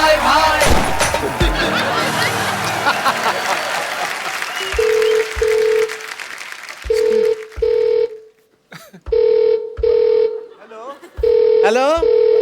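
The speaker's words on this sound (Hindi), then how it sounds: "फोन आ रहा है" On a television comedy show stage, loud applause and crowd noise fade out. A telephone then rings in repeated short electronic bursts, each cut off sharply, with brief voices between rings.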